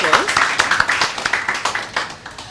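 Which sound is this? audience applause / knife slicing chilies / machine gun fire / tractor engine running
audience applause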